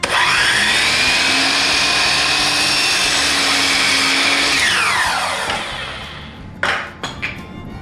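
A power saw cuts through a piece of kitchen cabinet crown molding: a loud, steady high whine that winds down after about five seconds, followed by a few sharp knocks as the piece is handled.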